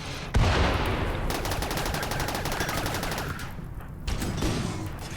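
Rapid automatic gunfire in RimWorld, a sharp opening blast followed by a long run of evenly spaced shots, then a brief lull and more firing near the end.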